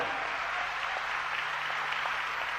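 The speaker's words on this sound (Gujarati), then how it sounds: "તાળીઓથી બતાવી લ્યો" An audience applauds steadily at a live Gujarati folk storytelling and comedy program. The clapping is even and continuous, a dense wash of many hands at moderate loudness, with no talk over it.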